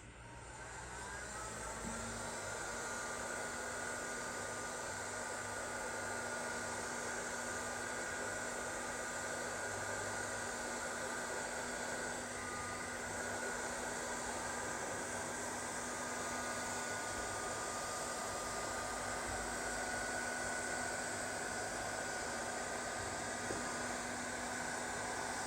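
A heat gun blasts hot air onto a MaxiDrive 30% low range intermediate gear set, starting with a click and then holding a loud, steady, close airflow roar without a break to the end.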